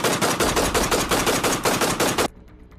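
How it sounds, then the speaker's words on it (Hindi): Sustained rapid machine-gun fire bursts loudly from a truck in an action scene, a dense rattling volley lasting about two seconds before cutting off abruptly into near silence. "रुकते ही उस ट्रक से गोलियां बरसने लगी"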